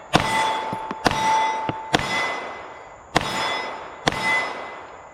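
Rifle shots at a steel target, each sharp report followed by a ringing metallic clang, five evenly spaced shots with fainter clicks between, loud and close, no talking.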